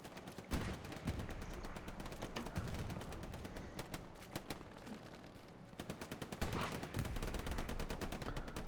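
A grease gun firing in the video game Hell Let Loose: continuous rapid automatic bursts, loud and close, with only a brief dip before the firing resumes to the end.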